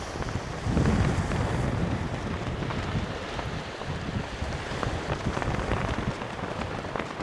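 Strong wind buffets the microphone on a beach at Cambois, Northumberland, where someone is fishing, making a steady loud rushing roar with gusty swells and a crackly texture throughout, no voices.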